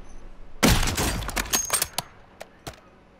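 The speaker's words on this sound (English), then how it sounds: "I hear sniper shots." Gunfire in a Warzone battle royale match, a burst of sharp, closely spaced shots followed by a few scattered distant cracks, loud at first and then fading.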